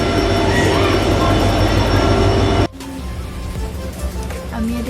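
A train rumbles loudly and steadily nearby, then cuts off abruptly into a quieter platform ambience with faint clanks.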